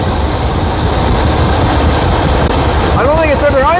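A small engine fitted with a Chinese carburetor idles steadily at close range, a rough continuous rumble with a faint whistling tone emerging near the end.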